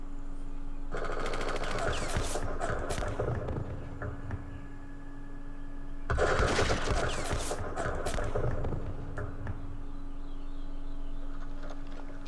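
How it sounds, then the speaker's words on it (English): Gunfire in the Vietnam War strategy game Campaign Series Vietnam, two loud bursts of rapid machine gun shots separated by a quieter pause, over a steady background hum. "That was a lot of firing."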